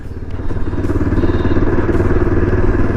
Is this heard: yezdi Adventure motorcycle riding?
yes